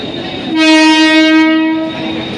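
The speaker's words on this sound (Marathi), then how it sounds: "मित्रांनो आता आमची ट्रेन आली फायनली. कोकण कन्या एक्सप्रेस" A loud, steady horn from the Konkan Kanya Express blares for over a second over the rumble of the arriving train, then cuts off, leaving the rolling noise.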